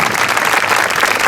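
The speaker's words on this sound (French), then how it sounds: "qu'on peut applaudir bien fort, elle arrive" Audience applause rises at a Breton dance event in Saint Loup, a steady dense wash of clapping from a crowd filling the room, loud and continuous with no talk over it.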